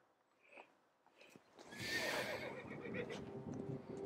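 A horse in the video game Assassin's Creed Origins whinnies loudly and at length after a few quieter snorts and thumps, its cry close and drawn out.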